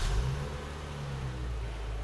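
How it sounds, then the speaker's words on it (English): A 2018 Dodge Charger's engine runs just after a factory remote start, a steady low rumbling idle close by with no other sounds. "double click the circle button, activates the factory remote start"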